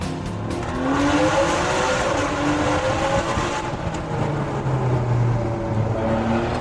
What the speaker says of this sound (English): Every time you hit a tunnel in a Ferrari, you should wind the windows down and give it some stick.